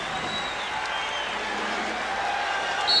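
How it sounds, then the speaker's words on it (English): Home crowd at the Forum in Inglewood during an NBA Finals game between the Bulls and Lakers, a continuous broad wash of cheering and applause with a faint swell toward the end. "Crowd trying to get the home club going"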